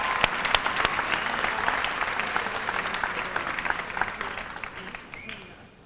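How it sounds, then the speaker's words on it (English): Audience at a 1993 high school senior academic recognition ceremony applauds students, a dense, steady round of clapping that holds for several seconds and gradually tapers near the end. "So let's give them another round of applause."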